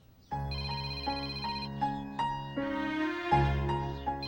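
A phone ringtone plays continuously, a loud synthetic melody of repeating tones with no voices.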